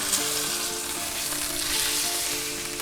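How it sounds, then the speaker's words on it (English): A Stampede ribeye steak sears in a hot pan, giving a loud, dense, unbroken sizzle that holds steady for the whole stretch with no talking. "And we're going to sear that for about 2 minutes, then we'll go ahead and flip it over."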